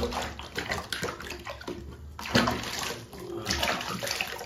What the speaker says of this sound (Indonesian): Kita siram, kita cuci lagi.